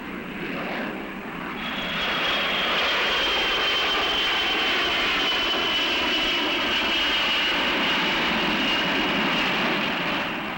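Jet engines of a 1965 United Airlines DC-8 airliner, a steady loud roar with a high whine that swells after the first second or two and then holds constant, with no voices.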